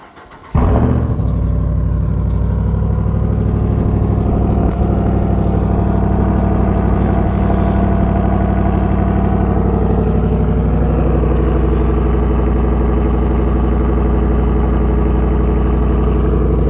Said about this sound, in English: We're going to do a quick cold start with the current exhaust it has now.